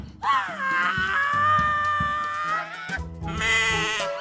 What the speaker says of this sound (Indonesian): Kambing siapa itu?